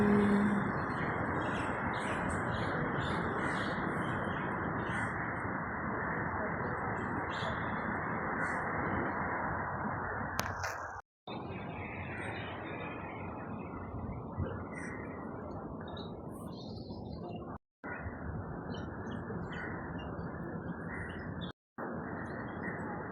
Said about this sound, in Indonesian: Tuh ada burung-burung.